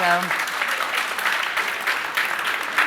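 A panel discussion audience bursts into applause, a sustained dense wash of many hands clapping at moderate volume that holds steady for several seconds, with a brief voice at the very start.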